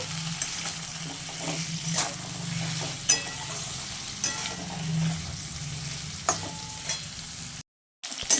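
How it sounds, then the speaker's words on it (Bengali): Nigella seeds and raw onion fry in a pan with a steady close sizzle, punctuated every second or so by sharp clicks and scrapes of a stirring spoon, then a brief total dropout near the end. "আমি কালো জিরা দিয়ে দেবো আর একটু কাঁচা পেঁয়াজ এটাকেও খুব ভালো করে আমি ভেজে নেবো"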